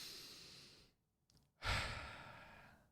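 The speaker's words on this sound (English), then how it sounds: "Take a deep breath with me." One slow, deep breath, close and soft: a long airy exhale, a brief pause, a short sniff, then a fuller drawn-out breath that fades away.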